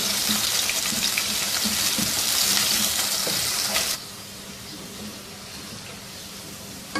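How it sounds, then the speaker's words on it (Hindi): Sliced medium onions frying in hot oil until golden brown for a Mughlai Eid dish, a steady loud sizzle that drops abruptly to a quieter bubbling hiss partway through, with no talk. "2 दरमियाने साइज़ के प्याज स्लाइसिस में काट के और इनको भी गोल्डन ब्राउन फ्राई कर लेंगे"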